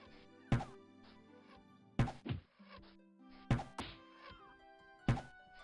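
Shots strike harpies in the Elder Scrolls II video game as a series of dull, thudding hits roughly every second or two, layered over sustained synthesized game tones.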